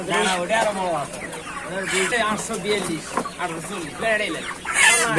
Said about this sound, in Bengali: পাকিস্তানি মুরগি, এগুলো পাকিস্তানি মুরগি, আর ব্রয়লার মুরগি।